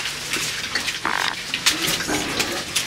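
Pigs grunting and snuffling at close range, a few short rough bursts scattered over a few seconds with some wet, watery noise mixed in.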